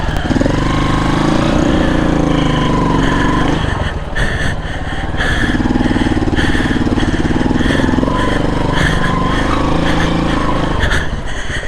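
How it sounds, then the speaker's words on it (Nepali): A motorcycle stuck on a rough mountain road between Pokhara and Muktinath revs loudly and close, its engine droning steadily with shifts in pitch and a brief dip before rising again. "यसरी फस्यो बाइक"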